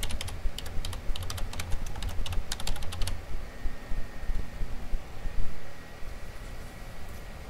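Crisp keystrokes on a computer keyboard tap in quick succession for about three seconds, then give way to a low steady room hum.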